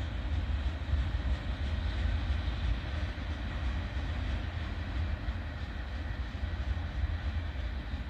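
A steady low rumble of a northbound autorack freight train rolling along the track through Abbeville, continuous and moderately distant, with no voices.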